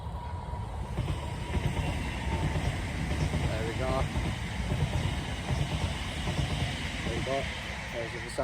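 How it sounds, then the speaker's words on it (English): A train passing near a carp fishing lake, a steady loud rumbling roar filling the whole stretch, with someone speaking briefly over it. "Excuse the noise. Train's just going by."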